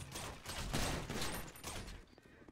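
Rapid bursts of gunfire from a GTA roleplay shootout crackle in dense, overlapping volleys during a convenience-store robbery, moderately distant and fading toward the end.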